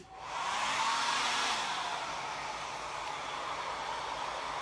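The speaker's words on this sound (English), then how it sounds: "And then I'm gonna blow dry this one as well" Hair dryer blowing on a chalk-painted craft cross, a steady loud airy roar that starts quickly and holds evenly with no talking.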